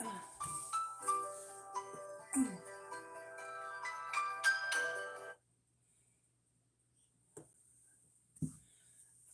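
Telephone ringtone playing a tinkling electronic melody for about five seconds, then stopping, followed by near silence with a couple of faint soft knocks.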